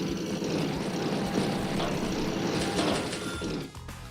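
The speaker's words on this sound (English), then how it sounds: "Jake's bomber heading down south." A bomber unit from the Advance Wars by Web strategy game drones steadily like a propeller aircraft engine, a loud continuous roar that cuts off abruptly near the end.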